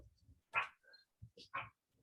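A guard dog gives a few short, sharp barks in uneven bursts, faint and somewhat distant, with quiet low sounds between them.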